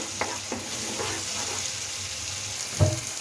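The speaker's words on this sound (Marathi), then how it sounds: "मस्त असं परतवायचं आहे मसाल्याला." Masala of turmeric, red chilli and garam masala sizzles steadily in hot oil while being stirred until the oil separates, with a few sharp scrapes of the spoon against the pan.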